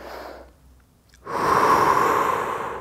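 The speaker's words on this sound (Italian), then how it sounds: "faccio un bel respiro" During a morning stretching exercise, a person exhales briefly, pauses, then draws a long, deep, close breath that is clearly audible with no talking.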